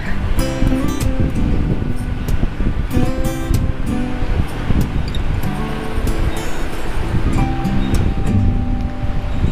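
Sea waves wash in steadily at high tide on the beach in front of a seaside resort at Chao Lao Beach, with wind noise and faint background sounds, close and continuous, no one speaking.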